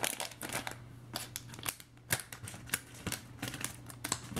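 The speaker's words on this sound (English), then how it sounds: "I wanted to cut these out first." Scissors snip paper pieces from a Popin Cookin hamburger candy kit, giving irregular sharp close cuts and crisp paper rustles at a quick, uneven pace.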